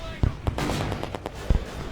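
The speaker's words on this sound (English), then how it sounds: "and now there's a lot of explosions" Explosions in the Call of Duty 2 Big Red One on original Xbox, with several sharp, booming blasts in quick succession and a dense rumble of battle noise between them, loud and close.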